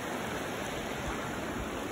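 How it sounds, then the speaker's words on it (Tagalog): Clear river water flowing steadily in a tropical freshwater spot, a dense continuous rush with no breaks, close and fairly loud with no voices over it. "Daloy ng tubig."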